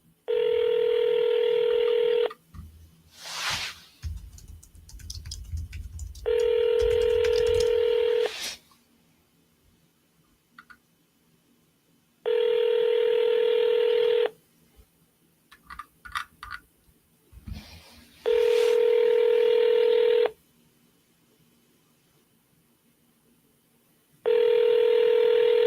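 Telephone tones from dialing a number during a seller call: steady electronic tone bursts about two seconds long, repeating at regular intervals with quiet gaps and faint background noise between them.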